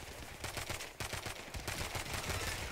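Rapid automatic gunfire in GTA 5 during a gang fight, dense bursts of sharp shots in quick rhythmic volleys that run steadily and fairly loud.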